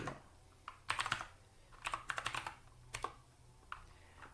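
Computer keyboard typing a command during an Arch Linux install with LVM: several quick bursts of keystrokes with short pauses between, close and clear, with no voices.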